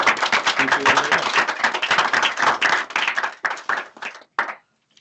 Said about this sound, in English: let's give them a good applause